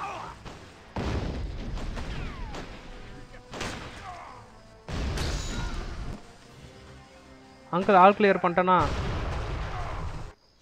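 Bombs burst in the Tamil gameplay of the video game Gun, several heavy booming blasts with gunfire and crashes in separate loud bursts, and a voice speaks between them.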